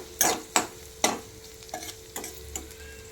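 Sabudana being added and stirred in a pan for sabudana khichdi with peanut powder: a series of sharp scraping spoon strokes at an irregular rhythm over a faint sizzle, close and fairly quiet.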